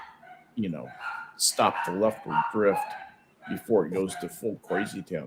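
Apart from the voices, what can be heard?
dogs barking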